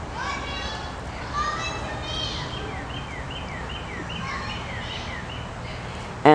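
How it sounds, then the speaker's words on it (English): Children playing in a swimming pool next door, heard from indoors as faint, distant shrieks and chatter blended into a steady background hum. "you can hear the kids outside next door playing in the pool"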